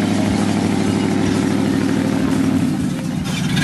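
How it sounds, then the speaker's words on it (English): A truck engine idles steadily with a low, even rumble and throb that holds constant throughout, loud and close, with no talking. "I love my truck. You can hear it."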